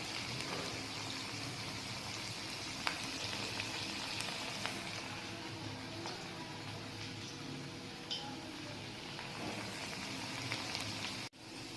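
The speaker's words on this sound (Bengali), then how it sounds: "তো এখন ফ্রাই হচ্ছে এগুলো, ফ্রাই হলে তারপর দেখাবো কেমন হয়েছে" Chicken pakoras deep-fry in hot oil, giving a steady, dense bubbling hiss that runs unbroken throughout, with a few faint clicks and a sharp knock near the end.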